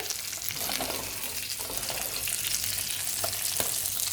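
A salmon fillet pan-searing in hot oil, a dense, steady sizzle and crackle filling the pan close up, with small pops and spits scattered through it and no voices.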